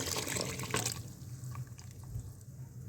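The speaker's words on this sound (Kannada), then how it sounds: "ಖಾರದ ನೀರು ಬಿಡ್ತಾಯಿದ್ದೀನಿ." Spicy water is poured into a mutton curry in a brief splashing gush that cuts off after about a second, leaving a quiet bubbling simmer.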